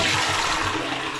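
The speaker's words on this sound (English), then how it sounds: "Working toilet" A toilet flushes close by in a plumbing job setting, a loud continuous rush of swirling water.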